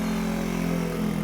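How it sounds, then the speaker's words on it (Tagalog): A Yamaha NMAX 155 V2 scooter engine with a crankshaft position sensor fault idles steadily up close, a continuous low hum that keeps running without stalling. "Titingnan natin kung mamamatay pa ba itong makina ng motor ng NMAX."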